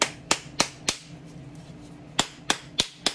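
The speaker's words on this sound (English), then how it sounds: "Taps on the top plunger." A spoon taps on the top plunger of a Christmas tree bath bomb mold: sharp, close clicks, four in quick succession, a pause, then four more.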